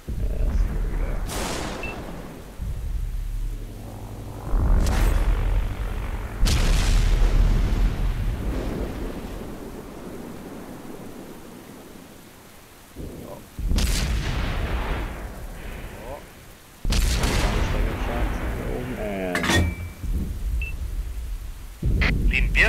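Tank cannon fire in World of Tanks on console, with an M53/55, giving several deep booming blasts with long rumbling tails spread across the stretch, loud and close, with game sounds between shots.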